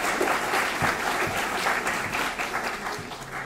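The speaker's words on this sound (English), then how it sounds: "Please join me in a round of applause for the hard work and dedication these leaders have devoted to our community." A large audience at an annual community meeting claps in sustained, even applause that fills the room, with no voices standing out.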